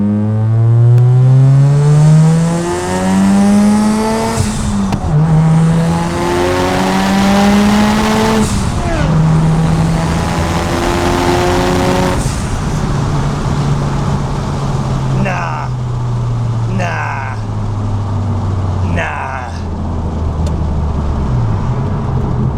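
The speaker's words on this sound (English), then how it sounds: "Another second gear pull, I think, to confirm that it is 500 ponies." A 480 BHP Mazda RX-7 pulls hard in second gear, its engine note climbing loud and close through repeated rising sweeps, with brief drops between them and people talking over the roar.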